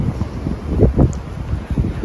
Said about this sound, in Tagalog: Marinig din yung hangin, di ba?